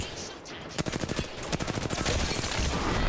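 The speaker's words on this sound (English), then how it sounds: "That's three people shooting at me then." Rapid bursts of automatic gunfire from several players in Apex Legends, a dense crackling volley of sharp shots that grows steadier and louder toward the end, with faint game ambience underneath.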